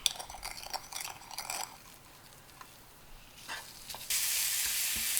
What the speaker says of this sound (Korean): 먼저 기름을 살짝 두른 팬에 밑간에 든 소고기를 볶다가